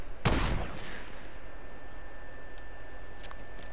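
A single sharp sniper rifle shot in Fortnite rings out loud and close, followed by a long fading tail and a faint later click.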